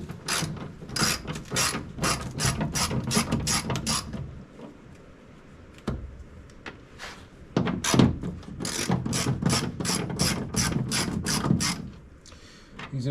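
Quick ratchet clicks in repeated bursts as 10 mm bolts are loosened on a Toyota FJ Cruiser door speaker, close and crisp, with a short pause between runs.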